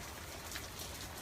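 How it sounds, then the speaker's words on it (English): Rain falls outdoors in a soft, steady hiss of patter with no voices over it, faint and even throughout. "in case you couldn't tell, it's technically raining"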